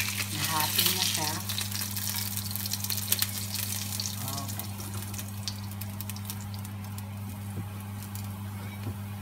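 Fish fries in hot oil for a home-cooked cream dory dish, a steady close crackling sizzle with brief stirring and scraping, and a voice speaking faintly beneath it.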